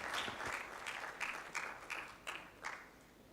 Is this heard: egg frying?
no